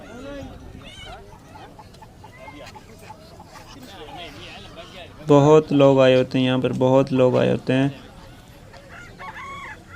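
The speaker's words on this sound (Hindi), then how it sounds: "और ये मुर्गा।" Someone speaks at a bird market in Abu Arish, Jazan, Saudi Arabia, then a rooster crows loudly and close, a long series of harsh calls lasting a few seconds, followed by more faint clucking.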